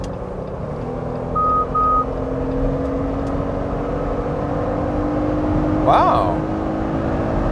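A 2020 Jeep Gladiator pickup accelerating hard while driving, a steady low engine drone and road rumble rising slowly, with two short electronic beeps early on and a brief exclamation from a voice near the end.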